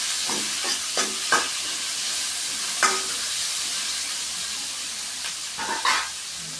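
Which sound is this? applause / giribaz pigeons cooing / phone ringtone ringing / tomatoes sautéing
tomatoes sautéing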